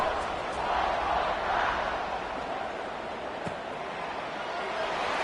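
A stadium crowd in a Madden football video game roars and murmurs steadily before a kickoff, sounding broad, distant and fairly faint throughout.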